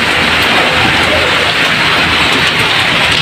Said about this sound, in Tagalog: Malakas ang ulan mga idol.